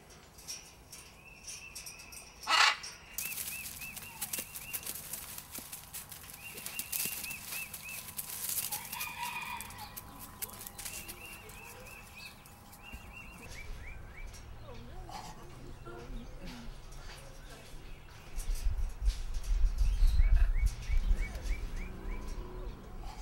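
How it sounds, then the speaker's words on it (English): A bird sings in the video game Moon Quest, giving repeated chirping calls over layered game ambience with crickets and fowl-like clucks, while a low rumble swells near the end. "This bird actually sings."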